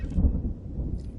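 Rolling thunder from a storm in the dinosaur park game Jurassic World Evolution 2, a low rumble swelling and fading over a brief stretch, moderately loud with no voices.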